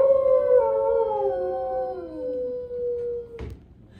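A dog howls in a long, drawn-out wail that slowly falls in pitch before fading into a short burst of noise, part of the Carousel of Progress animatronic show at Magic Kingdom.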